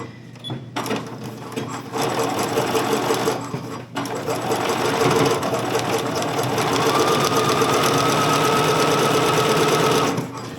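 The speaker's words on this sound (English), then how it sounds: "I'm sewing about 1/8 of an inch from the edge" A sewing machine runs steadily, stitching handles onto an overnight bag about 1/8 inch from the edge, with a brief pause near four seconds before the close, continuous whir resumes and holds to the end.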